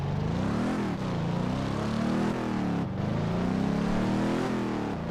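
A V12 production Corvette engine in the racing game Test Drive Unlimited 2 drones loudly and steadily, its pitch rising and dipping through gear changes for several seconds without speech.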